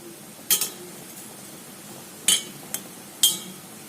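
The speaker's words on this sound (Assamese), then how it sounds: "ঢাকনা উঠাই চাওঁ কি হৈছে" Metal cooking-pot lid lifted off with a few bright clanks, three main clinks spaced apart over quiet kitchen background, close and fairly loud.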